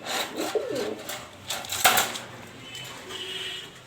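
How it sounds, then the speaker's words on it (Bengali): A pair of white Bombay pigeons coo softly in a few low, rounded calls, with light rustling and clicking noises around them. "এখানে একজোড়া বোম্বাই কবুতর আছে, সাদা বোম্বাই।"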